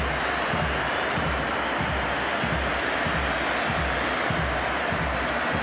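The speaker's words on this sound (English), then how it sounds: "Time for Lionel Messi to take his own personal round of applause." Stadium crowd at the Argentina vs Spain 2010 World Cup match applauding Lionel Messi, a steady loud roar of massed clapping and cheering that fills the whole stretch with no distinct voices.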